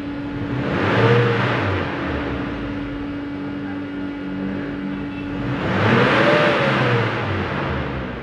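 A gasoline Toyota Innova engine, just repaired after a faulty ignition coil, idles smoothly nearby and is revved twice, each rise swelling to a throaty roar before settling back to idle.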